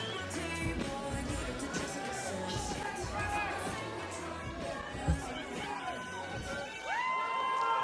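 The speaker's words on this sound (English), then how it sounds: "Big one crowd cheering on Denmark." Crowd cheering on Denmark at an IMCF 2017 5v5 armored fighting tournament against the United States, a dense, sustained roar of shouts and whoops with a sharp thump near the middle and a swell of cheering toward the end.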